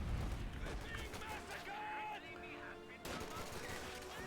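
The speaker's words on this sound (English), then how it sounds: "This MG42, frozen apparently. Finally gets a burst off and has to go home." Bursts of MG42 machine-gun fire from a video game rattle through dense game noise, with voices talking over much of the shooting.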